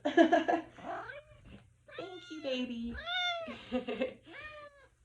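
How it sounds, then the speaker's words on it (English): A pet cat meowing and caterwauling during a gentle seated yoga session at home, several close, drawn-out meows mixed with a woman's soft speech. "And my cat's now coming to join us."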